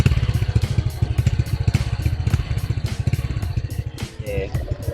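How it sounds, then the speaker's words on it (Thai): A kick-started motorcycle idling, its quiet, deep exhaust giving a rapid steady thumping pulse close by, with a faint voice near the end. "นี่เดี๋ยวให้ฟังเสียงท่อเลย ท่อเงียบๆนะครับเงียบๆทุ้มๆหน่อยๆ"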